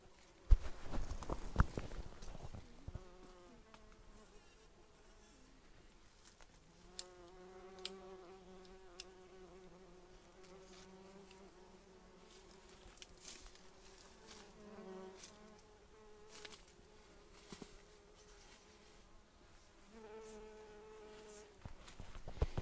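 Bees buzzing around comfrey plants in a no-dig summer garden: a steady, moderately close insect drone that rises and falls as the bees drift past, with a few faint knocks and rustles in an otherwise quiet outdoor setting.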